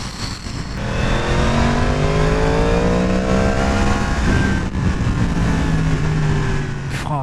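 A 2022 Yamaha MT-10 motorcycle engine revs loud and close, its tone sweeping steadily upward through the gears in a continuous, aggressive roar with no pauses.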